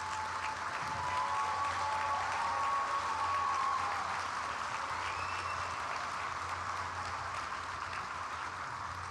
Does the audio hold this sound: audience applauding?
yes